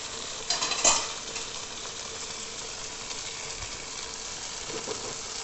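Chicken with sesame seeds in a pan sizzling steadily after water is poured in, a broad constant hiss with a short clatter of stirring near the start, close and alone.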